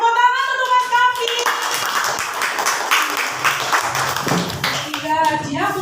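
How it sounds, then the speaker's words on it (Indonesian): A classroom of Indonesian schoolchildren claps hands for a classmate in steady, brisk rhythm, with children's voices chattering before and after the clapping. "Tepuk tangan untuk Mas Kafi."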